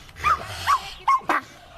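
Dogs clash in a shelter playgroup fight, with several sharp barks and yelps in quick bursts, close and loud over a low background scuffle.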